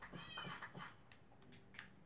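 A cat in the PS4 game Minecraft meows several times in quick succession, close and fairly clear, followed by quieter clicks and faint game sounds.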